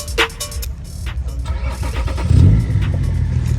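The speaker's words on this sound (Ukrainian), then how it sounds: "Зараз ми її заведемо і послухаємо вихлоп." A BMW E39 cranked and started, with starter clicks giving way to an engine catching and a throaty exhaust rise before settling, recorded up close.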